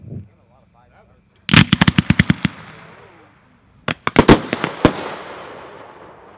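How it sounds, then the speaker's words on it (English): Vulcan fan slice fireworks cake firing in two loud volleys of rapid sharp bangs and crackles, each burst followed by fading crackling tails, with a brief voice at the very start. "Number seven is another set of fan slices by Vulcan."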